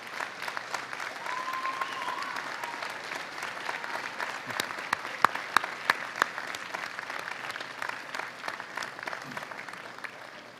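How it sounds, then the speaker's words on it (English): A graduation convocation audience at Western applauds steadily, the dense clapping of a large crowd filling a hall, sustained at even strength for several seconds before thinning slightly toward the end. "give them a round of applause for the love and support that made this day possible."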